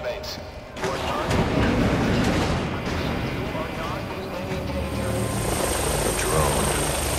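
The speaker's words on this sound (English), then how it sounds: "Drone. That doesn't belong here." A drone in Batman: Arkham Origins whirs overhead with a dense, rumbling rotor roar that swells after a quieter opening, mixed with booming game effects and a rising high whine near the end.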